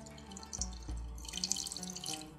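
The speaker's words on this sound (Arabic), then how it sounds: "هبتدي بقى احط الميه كده" Water poured into a cooking pot, a close splashing gurgle that swells and runs steadily for a couple of seconds, moderately loud with no voices.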